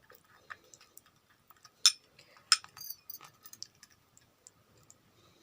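A spoon clinks and taps lightly against a small bowl while glycerin is stirred in, scattered soft metallic clicks with a couple of sharper knocks, quiet and close with no talking.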